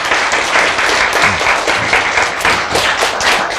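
An audience claps steadily throughout at a lecture on healing and genetics, a dense, even patter of many hands sounding fairly close and sustained for several seconds.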